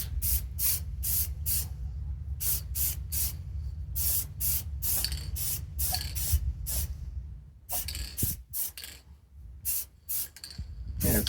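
Short bursts from a spray can lay a light coat of paint on a rifle outdoors, repeated hissing puffs in quick rhythm over a low background rumble, fairly close and steady.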